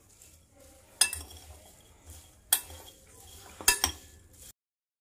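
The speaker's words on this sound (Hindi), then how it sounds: "तो सभी चीजों को हम यहाँ पर मिक्स कर देंगे।" A spoon stirring and scraping spices in a dish for chili garlic pickle gives soft rustling, broken by three sharp metallic clinks of the spoon against the bowl, up close with no talking.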